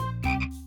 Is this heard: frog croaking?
yes